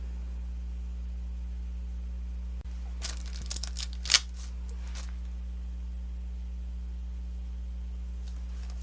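Wax paper sticker backing is handled and crinkled close by, a short burst of crisp rustles and crackles with one sharper tear over a steady electrical hum, then quiet.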